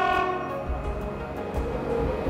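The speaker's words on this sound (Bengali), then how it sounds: "শোনা যাচ্ছে ট্রেনের হুইসল।" A steady train whistle or horn sounds on the Lumding–Badarpur mountain railway in the Haflong hills, a sustained tonal blare with rumbling rail noise beneath, continuous and fairly loud, without speech.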